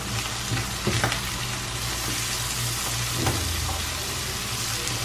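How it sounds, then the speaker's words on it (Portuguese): Onion sizzling steadily in a pan with sausage in margarine, a dense continuous crackle and hiss heard close up with faint stirring scrapes and no talk. "Vamos deixar essa cebola fritar aqui, junto com essa linguiça na margarina."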